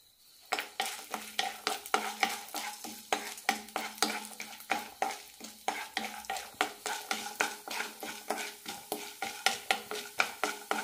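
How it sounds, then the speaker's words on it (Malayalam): Chana dal, urad dal and peanuts frying in a tablespoon of oil in a pan, with a rhythmic series of sharp spoon scrapes and stirs over a soft sizzle, close and steady throughout. "പാനിലേക്ക് ഒരു ടേബിൾ സ്പൂൺ എണ്ണ ഒഴിച്ചിട്ടുണ്ട്. ഇതിലേക്ക് കടലപ്പരിപ്പും ഉഴുന്നൂടാം."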